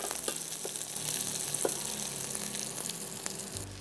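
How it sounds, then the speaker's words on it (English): Red onions and garlic sautéing in oil in a pan, a steady close crackling sizzle with a few stirring clicks, alone with no talk. "The red onions and the garlic can go into the oil and then just saute it for like 2 to 3 minutes till it's translucent"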